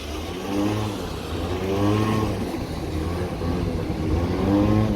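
A Honda Dio scooter engine revs hard and close, its pitch climbing and falling in repeated waves of acceleration over a continuous buzzing drone.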